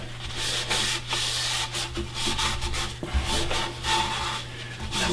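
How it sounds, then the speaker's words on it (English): Hand rubbing finish into a beaded wooden platter on a stopped lathe, a steady close scrubbing and friction texture running continuously under a constant low hum. "Just going to work it in by hand with the lathe off"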